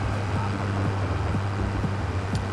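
Steady low hum of a tractor engine in a farming video game, a continuous droning rumble running evenly throughout with faint background ambience.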